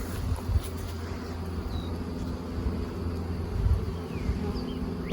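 Honeybees buzz steadily around an open nuc hive during a first inspection after transfer, a dense, continuous low drone close by with small swells in loudness and no talking.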